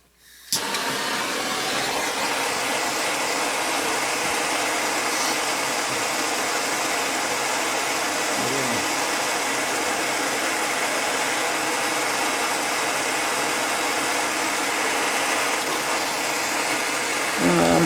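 A torch heats stuck metal on a grinder during maintenance, giving a loud, steady, close-up roar that starts abruptly and holds unbroken for the whole stretch.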